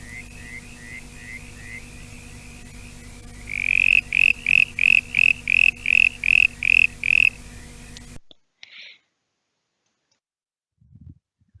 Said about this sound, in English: The spotted marsh frog.